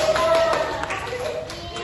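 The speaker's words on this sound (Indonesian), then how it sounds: "Kasih tepuk tangan dulu" A classroom of students claps hands for a classmate during a lesson, brief scattered clapping with some voices mixed in.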